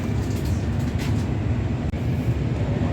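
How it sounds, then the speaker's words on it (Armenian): A moving train heard from inside the carriage: a steady low rumble of wheels and car noise fills the whole stretch, with one brief dropout near the middle and no voices. "գնացքի մեջ եմ, դրա համար բարձր չեմ խոսում"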